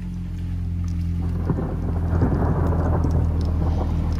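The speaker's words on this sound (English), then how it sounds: "Loudest thunder ever." Loud, deep thunder rolls through a heavy thunderstorm in Big Bear, California, a sustained low rumble that swells midway over dense, steady rain hitting nearby surfaces.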